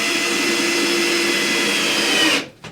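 Power tool whirs steadily while driving screws into bed frame slats, a loud continuous high whine that winds down and stops near the end, followed by a brief blip.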